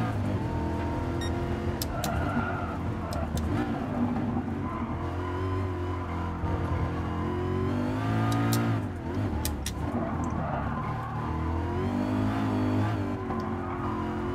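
A 2009 Mercedes-Benz SLR McLaren in the Gran Turismo Sport video game, its engine revving up and down through gear changes with rising and falling whines, loud and close, plus a few short clicks and brief tire squeals.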